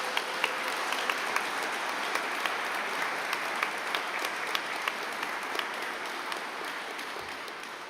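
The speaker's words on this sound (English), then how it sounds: "Give them another round of applause." A large audience at a community candidates' debate forum in Brisbane gives the speakers sustained applause, a dense, even wash of many hands clapping that holds steady throughout.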